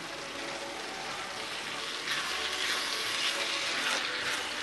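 Strained canned black beans tip from a strainer into a pot of chili, giving a steady wet, splashy rush that swells midway, heard close and alone.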